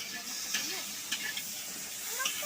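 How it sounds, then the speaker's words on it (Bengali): Shrimp fry in a pan for mixed fried rice with a steady hissing sizzle and occasional light scraping from stirring, close and moderately loud throughout. "আর এখানে চিংড়ি মাছটা ফ্রাই হচ্ছে।"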